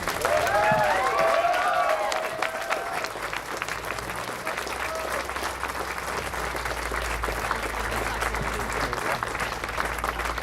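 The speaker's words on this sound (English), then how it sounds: "ask for some raucous applause to recognize everyone who's come out at all this year" A crowd at an outdoor Pride flag raising ceremony breaks into loud, sustained applause with cheers and whoops at the start, the dense clapping holding steady throughout.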